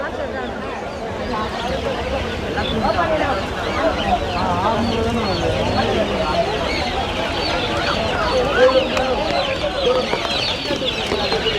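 Chickens and desi-breed fowl clucking continuously in a busy Friday market crowd in Pallavaram, Chennai, the calls mixed with steady background chatter and bustle.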